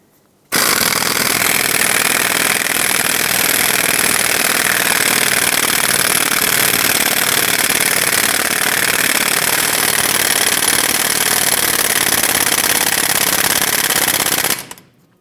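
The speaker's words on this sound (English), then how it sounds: "Center everything up and pull it through." A new lug stud is pulled through the rear hub of a 2008-2010 Ford F-450 Super Duty, a loud, unbroken mechanical rattling hammer that starts abruptly, holds steady for about fourteen seconds, then cuts off.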